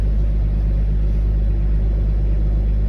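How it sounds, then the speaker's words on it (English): A car engine idles with a steady, loud low rumble that holds constant throughout, with no clear rise in revs. "Let's see if I can rev it up, go up a little bit."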